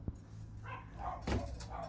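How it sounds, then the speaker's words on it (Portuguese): A neighbor's dogs bark a few times at a distance, short sharp yips standing out over a low steady hum near a motorcycle restoration studio. "Os cachorros do vizinho aqui."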